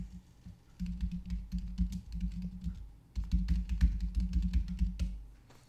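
Typing on a computer keyboard, close and fairly quiet, two runs of rapid clicking keystrokes separated by a brief pause, with no talk.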